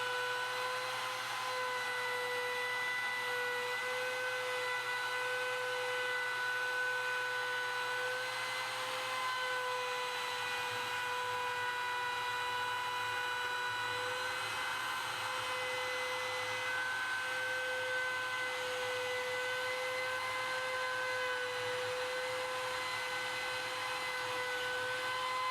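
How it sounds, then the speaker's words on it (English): A plunge router routes sign letters along a Milescraft SignCrafter template, giving a loud, steady high-pitched motor whine that holds for the whole span, with a low rumble that shifts partway through. "Plunge the router down and run the bushing tight against the template, moving in a clockwise motion"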